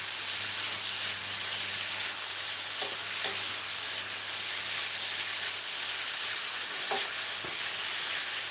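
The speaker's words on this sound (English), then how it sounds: "Mix this together." Shepherd's pie filling with fresh thyme and black pepper is stirred in a pan, giving a steady, quiet sizzle and hiss with a few soft scrapes of the spoon, and nobody speaks.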